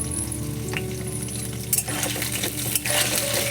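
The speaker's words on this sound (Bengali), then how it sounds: "নুন দিয়ে এবার আলুগুলোকে বেশ লালচে লালচে করে ভেজে নেব" Cut potatoes salted and frying in oil hiss continuously in a pan, broken by a few metallic clinks and scrapes of a spatula stirring them, with no talk.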